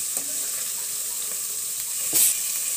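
Water and garlic paste hitting a hot pan while cooking boal fish curry, giving a steady broad sizzle throughout with a brief louder hiss burst near the end, no talking.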